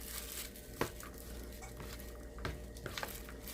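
Green onion is mixed by hand into summer kimchi as soft, quiet wet stirring and rustling, with a few light knocks against the bowl.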